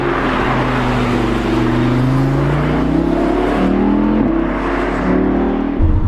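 An Audi RS3 engine roars steadily up through the gears on a mountain pass road, rising in pitch with each shift, loud and close throughout.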